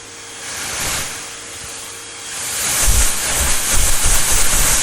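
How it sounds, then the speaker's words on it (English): Vacuum cleaner running on podcast microphones, a steady hissing roar that grows louder and rougher halfway through with bumping thuds as the nozzle works over the mics. "I'm gonna vacuum off the microphones too."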